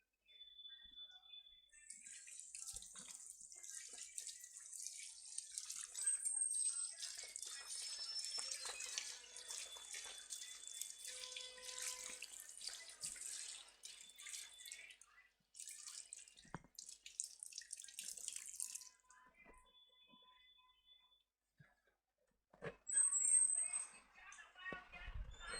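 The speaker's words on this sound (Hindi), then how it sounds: "पानी पड़ रहा है ये, खूब पड़ा" Water runs steadily from a tap, a loud continuous splashing hiss lasting most of the stretch before it thins out, with a brief renewed burst near the end and voices talking faintly underneath.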